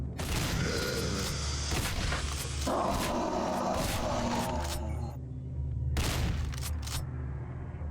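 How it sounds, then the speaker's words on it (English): Shotgun blasts from a violent first-person shooter game, sounding as several booming shots that ring out over a dense, loud layer of game noise and mechanical clatter. "let's say it's shotgun time"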